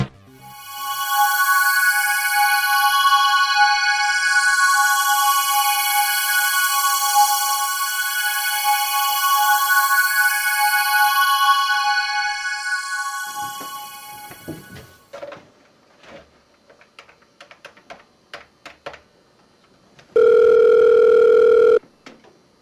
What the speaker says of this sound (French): Putain de téléphone de merde.